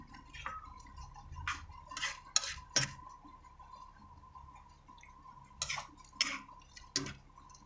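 A utensil stirs and scrapes food in a pan during cooking of escabeche tilapia, several short metallic clinks and scrapes close by with quiet gaps between them and a faint steady hum underneath.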